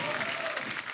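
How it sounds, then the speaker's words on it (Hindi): A studio audience at a comedy show claps loudly and steadily in a brief, unbroken burst of applause. "तालियां जोरदार होनी चाहिए"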